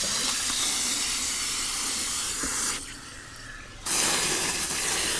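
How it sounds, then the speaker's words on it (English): Steady broadband rush of water filling a container of grass seed, loud and continuous, briefly dipping quieter for about a second before resuming at full force. "we'll go ahead and fill that thing up with water and set this seed in it"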